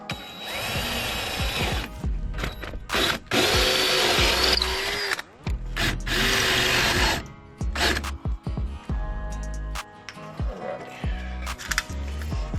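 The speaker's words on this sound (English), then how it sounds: "I'm going to drill a hole right yonder" Power drill boring a hole, several bursts of high whining motor noise separated by pauses, loud and close, with shorter blips and handling clatter between runs.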